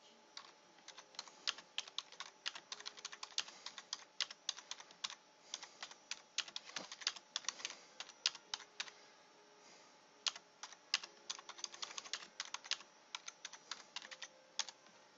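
Rapid, uneven tapping on a computer keyboard, keys clicking steadily for several seconds with brief pauses, fairly close and moderately quiet.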